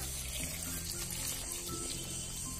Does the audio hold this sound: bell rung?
no